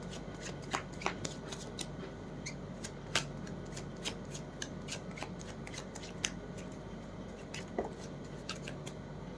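Tarot cards are shuffled by hand close by, a continuous papery riffle with light snaps and taps repeating at a steady pace, soft and alone.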